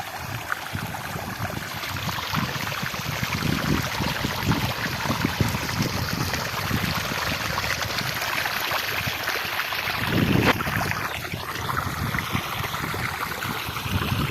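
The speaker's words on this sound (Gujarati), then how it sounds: "તમે જોઈ શકો છો પાણીનો તમને અવાજ આવતો હોય" A steady rush of irrigation water flowing through a groundnut field fills the scene outdoors, with wind buffeting the microphone and no speech.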